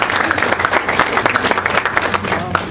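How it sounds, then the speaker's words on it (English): An audience at a caregiver forum gives a round of applause, dense continuous clapping filling the room at close range and holding steady throughout. "let's give her a round of applause for her strength for coming today."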